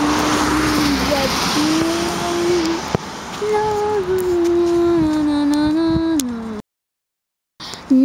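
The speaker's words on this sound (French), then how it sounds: "Oh là là, une camionnette." A split-window VW Kombi van drives past on the street, its engine whining and rising and falling in pitch as it passes nearby, with a voice talking over it before a brief dropout.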